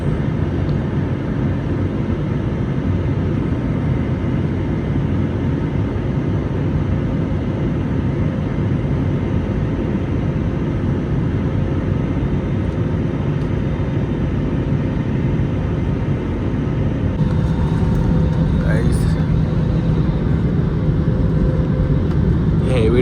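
Inside an airplane cabin descending through clouds in turbulence, a loud, constant low engine and airflow roar fills the whole stretch, with a few faint rattles and knocks near the end.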